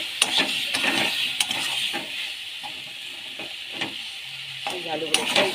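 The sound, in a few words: potatoes and vegetables being stir-fried in a pan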